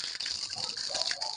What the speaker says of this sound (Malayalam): തുറക്ക്, വെള്ളം തുറന്ന് മൊത്തം തുറന്ന്.